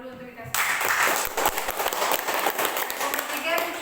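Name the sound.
classroom applause for presenting group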